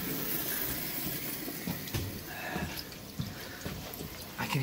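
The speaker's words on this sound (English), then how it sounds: "We have cold water draining into my sink." Cold tap water drains into a household sink, a steady watery rush with small drips and gurgles, close and fairly quiet, heard alone.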